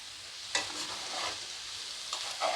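A spoon scraping and stirring spice paste frying in oil in a pan, with soft sizzling and a few distinct scrapes against the pan, close and fairly quiet.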